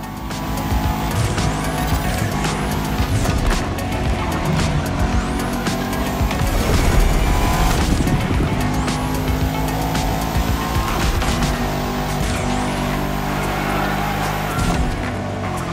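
Bugatti Veyron Barchetta and Bugatti La Voiture Noire racing in the video game The Crew Motorfest, a loud continuous engine roar with rising and falling revs and squealing tires through corners, with no talk.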